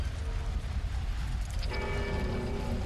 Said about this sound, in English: pulled the lever to ring the bell to beckon forth the Nameless King and his ally, King of the Storms